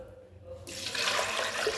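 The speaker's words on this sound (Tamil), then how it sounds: "3 கிளாஸ் தண்ணி ஊற்றிக்கலாம்." Water pours into a cooking pot for dalcha, a lentil and mutton dish, starting abruptly and running as a steady, loud gushing splash after a brief quieter moment.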